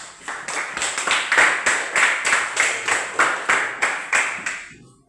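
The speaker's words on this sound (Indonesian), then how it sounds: "tepuk tangan" Children in an elementary school classroom clap their hands together in a steady, evenly spaced rhythm of about a dozen sharp unison claps, close and fairly loud, fading out at the end.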